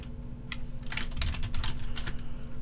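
Quick bursts of computer keyboard typing in the horror game Fingerbones, a few keys at a time in irregular clusters, fairly close and faint over a steady low hum.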